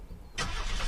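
A bus engine in the Unturned video game starts abruptly after a quiet moment, cranking into a steady low rumble at moderate volume.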